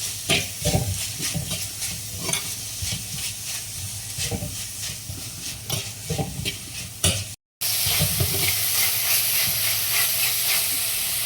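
Prawns and onions fry and sizzle in a pan while a spoon stirs them, rhythmic scraping strokes over a steady close hiss, with a brief cut in the middle and a sustained sizzle afterward.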